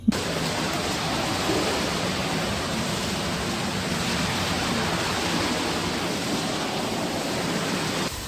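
Water washes and sprays inside a ship's ballast tank during cleaning, a loud, steady broadband rush that fills the enclosed space throughout, with no talk.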